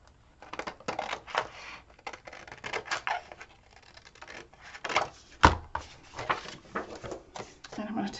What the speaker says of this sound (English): So I'm going to fussy cut this entire picture